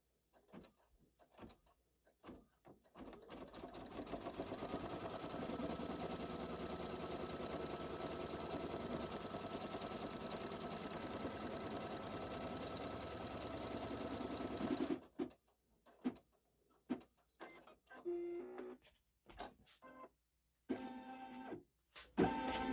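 A computerized embroidery machine stitches the placement line for a portal on a haunted house quilt block, a steady mechanical whir running for about twelve seconds before stopping, with short clicks and rattles before and after.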